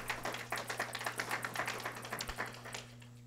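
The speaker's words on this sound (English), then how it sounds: "Y'all give them a round of applause for all the work they've done." An audience at a governor's budget event gives a short round of steady clapping, a dense patter of hands that fades out after about three seconds, with no talk.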